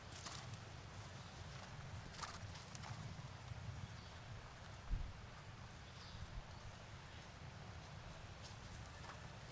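Horse hooves in an extended canter along the long side of a dressage arena at the 2010 World Equestrian Games, faint rhythmic hoofbeats far off under quiet crowd ambience, with one brief thump midway.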